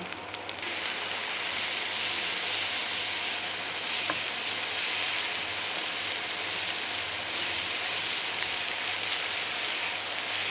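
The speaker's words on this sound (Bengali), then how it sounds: "আদা বাটা দিব 1/2 চা চামচ। সেটাও পেঁয়াজের সাথে মিলিয়ে নিব।" Ginger paste frying with onions in a pan for a salted hilsa dish, a steady dense sizzle running throughout at close range with no talking.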